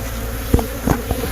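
Africanized killer bees from a hive being removed in cold 25-degree weather buzz in a steady, dense drone, close and loud, with a few soft knocks or thuds over it.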